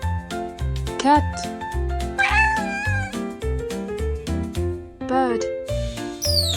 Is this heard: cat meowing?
yes